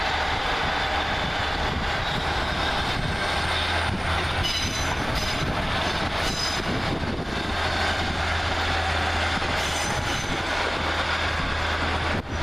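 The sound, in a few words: locomotive 14561 leaving with Northern Rail train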